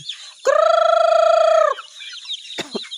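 A chicken lets out one long, drawn-out call, loud and close, followed by a few short clucks and rustling, as chickens are being fed.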